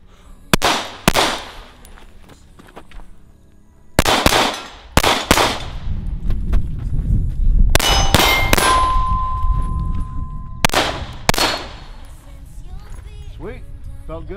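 Several loud, close 9mm gunshots strike armor, each a sharp crack with a ringing metallic clang, spaced irregularly over a low background rumble, with people talking in between.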